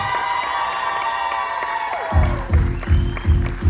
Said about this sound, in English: Can we give our junior cruiser a round of applause?